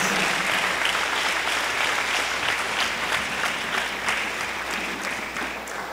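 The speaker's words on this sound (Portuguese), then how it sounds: "Aplauda ao Senhor, glorifique ao Senhor, exalte ao Senhor." A church congregation applauds at a seminar in Foz do Iguaçu, Brazil, with dense, steady clapping from many hands that stays loud and close throughout and only eases slightly toward the end.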